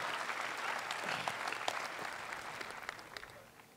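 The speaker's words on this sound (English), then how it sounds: "I think John deserves another round of applause" Audience applause at the 2014 International Tennis Hall of Fame induction ceremony, a dense, steady round of clapping from a large crowd that slowly fades toward the end.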